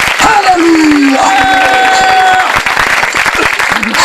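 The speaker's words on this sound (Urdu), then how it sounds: "تالیاں دے نال" A church congregation claps together in steady, dense applause throughout, loud and close, with a voice singing or calling out over the clapping.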